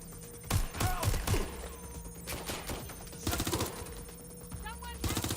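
Gunfire in the video game Watch Dogs Legion: clusters of close, sharp shots in quick bursts, mixed with shouting voices and background game noise.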